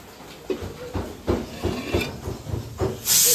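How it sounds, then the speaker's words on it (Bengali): Small pressure cooker on the stove with mutton cooking inside, giving a rough hiss that pulses in short bursts about twice a second and swells into a louder, sustained steam rush at the end. "এখানে ছোট্ট প্রেশার কুকারে ছোট্ট সদস্য রান্না হচ্ছে"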